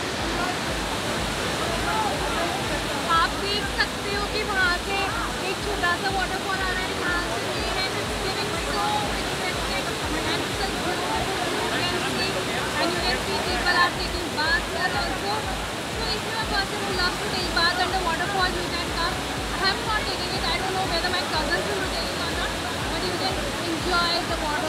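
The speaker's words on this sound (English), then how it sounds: "enjoy the waterfall, actually the Neer waterfall." Neer waterfall near Rishikesh pouring steadily as a broad, continuous roar of falling water, close and constant throughout with no pauses.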